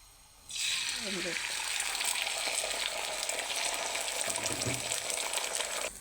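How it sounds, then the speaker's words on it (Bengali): Beaten egg poured into hot oil bursts into a loud sustained sizzle that starts suddenly and continues evenly, close, with brief faint sounds underneath and no clear talk. "তেল গরম হয়ে গেছে এখন আমি ডিমটা ঢেলে দেবো"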